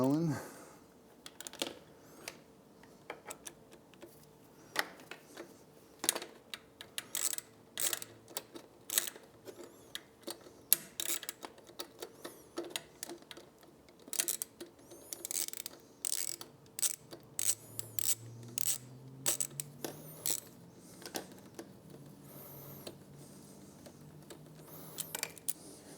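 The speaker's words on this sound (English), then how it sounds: "Now we can install chain guard using our 5 millimeter Allen." Quiet clicking and ratcheting of a 5 mm Allen key working chain guard bolts on a 2024 Triumph motorcycle, with irregular sharp metallic ticks and scrapes scattered through a close, hushed workshop space.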